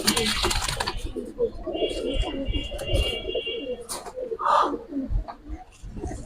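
Giribaj colouring pigeons coo softly at close range in a loft, with intermittent low murmuring calls and a few sharper bird sounds, amid light rustling and handling noises.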